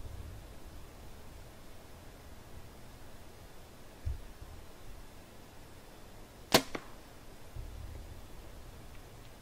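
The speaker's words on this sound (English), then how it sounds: "I purposely shot a little bit below that knock because I've broken 4 arrows tuning this bow" An arrow leaves a Mathews MR5 compound bow with one sharp, bright crack over faint outdoor hiss. Softer thumps come just before and after the shot.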